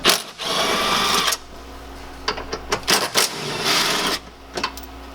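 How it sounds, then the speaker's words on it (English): A cordless impact driver fitted with a 10mm socket works seat bolts loose inside a 144 Sprinter van, rattling in close, loud bursts between short pauses. "So I've got a 10mm on my impact driver."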